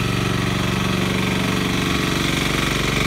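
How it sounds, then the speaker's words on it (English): Water pump running steadily in floodwater in Kinindo, Bujumbura, a loud continuous mechanical drone with a rapid rhythmic throb, close and unbroken throughout. "So you can hear the pump."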